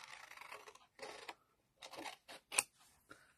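Paper card stock being trimmed with scissors for a die cut machine, several close, crisp snipping cuts in irregular bursts with short quiet gaps between them.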